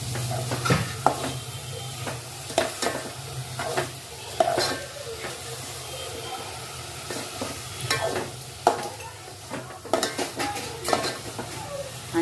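Masala being stirred into a pomfret curry in a pot: a spoon scrapes and knocks against the metal vessel in irregular bursts over a faint background hiss of cooking, with occasional clinks and no talking.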